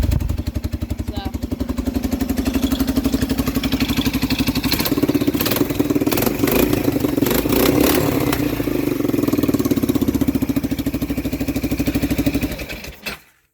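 A four-wheeler ATV engine with new rings not yet broken in idles hot and steady up close, with a loud, continuous rumbling putter. Some clattering is heard, and it cuts off abruptly at the end.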